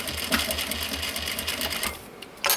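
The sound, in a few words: sewing machine stitching thick recycled denim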